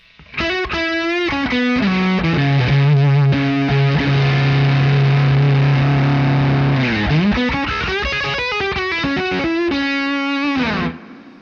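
An electric guitar through a germanium fuzz pedal with no chorus plays sustained notes and short bends in a thick, distorted fuzz tone, loud and up close, with no voices.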